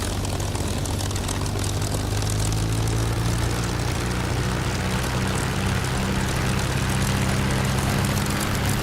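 A propeller aircraft engine in the Warbirds flight game runs up to 2,000 RPM, a loud, steady droning roar with a constant low throb that fills the whole stretch, alone with no talking.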